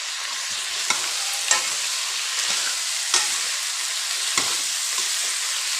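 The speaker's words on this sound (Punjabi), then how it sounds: "ਹੁਣ ਆਪਾਂ ਤਰਾਂ ਪਾ ਦਿੰਦੇ ਆ ਇਹ ਵੀ ਆਪਣੀਆਂ ਫਰਾਈ ਹੋ ਹੈ" Cucumber vegetable dish with tomatoes, onion and garlic frying in a pan, a loud continuous sizzle broken by several scrapes of a stirring spoon, with no talking.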